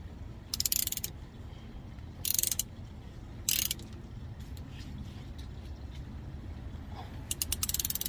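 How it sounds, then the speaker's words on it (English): A ratchet clicks in several quick bursts while a 14mm bolt is tightened on the front brakes of a 2008 Toyota Avalon, with a steady low background hum between. "Use your 14mm to tighten it up, and it goes up."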